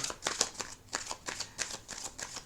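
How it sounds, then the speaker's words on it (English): Playing cards are shuffled up close in quick, papery bursts, a rapid series of flicks and riffles repeating at an even pace. "do one more shuffle and one more rifle"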